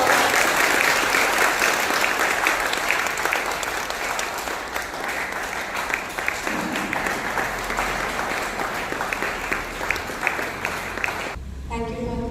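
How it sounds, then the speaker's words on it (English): An audience claps steadily for a guest speaker, a priest, at an education workshop, with sustained, moderately loud applause that fills the room and fades near the end. "let us give a big clap with the applause"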